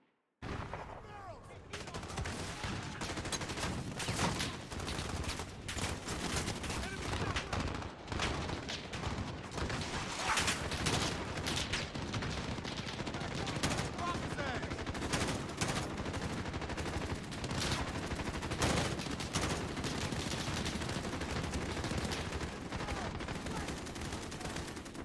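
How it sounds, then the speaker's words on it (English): Dense, continuous gunfire and explosions fill a Call of Duty Modern Warfare match, overlapping shots and bursts sustained loudly throughout with no break. "You're shooting at me, and from where?"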